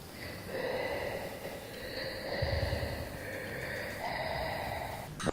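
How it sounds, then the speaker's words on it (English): Deep, creepy breathing rumbles in the background of a home voice recording, slow drawn-out breaths with snorting, wheezy edges, faint and steady over several seconds. "I started hearing that same deep, creepy breathing in the background once again."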